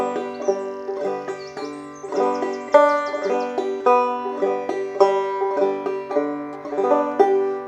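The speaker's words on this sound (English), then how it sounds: "So we're going to ladder down from string 1 to 4." A clawhammer banjo is plucked in a descending ladder pattern across strings one through four. The notes ring close and clear in an even repeating rhythm, with no talking.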